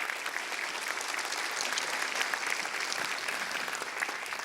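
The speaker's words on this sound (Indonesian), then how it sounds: "Tepuk tangan dulu buat Bu Risma." Audience applause at a stand-up comedy show in Surabaya, given for the city's mayor Bu Risma: a dense, loud, sustained burst of many hands clapping at once, steady from start to finish.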